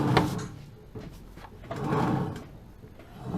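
A Honda Citycom scooter with a transmission fault, a low grinding, scraping mechanical noise that rises and falls, close by with no speech.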